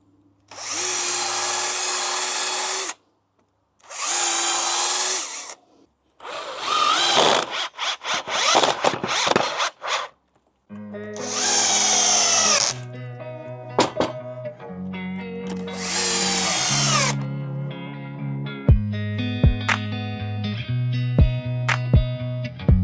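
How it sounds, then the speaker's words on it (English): A power drill whirs in several separate bursts, some short and some longer, with a grinding buzz as screws are driven into wood, close and loud. "I'm just going to drill all that together now."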